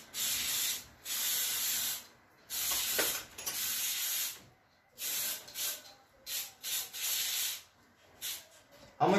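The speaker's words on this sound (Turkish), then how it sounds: "Şimdi ben boya olmayan yerlere boyasını atacağım." Aerosol spray paint hissing in repeated bursts of a second or two, with short pauses between them, close by, as a bicycle taxi is painted taxi yellow.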